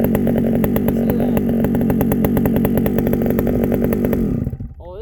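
A 1979 Pioneer P28 chainsaw fitted with a big exhaust muffler runs loud and steady at high revs with a harsh, buzzing drone, then cuts off abruptly near the end.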